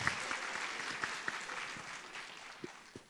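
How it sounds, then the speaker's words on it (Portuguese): A church congregation applauds in honor of Saint Rita of Cascia, a broad, even wash of clapping from a crowd, with a few sharper claps popping out near the end. "uma salva de palmas para ela"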